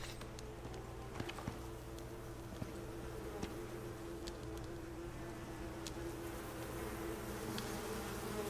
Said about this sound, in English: Oh god, more bees, my favorite.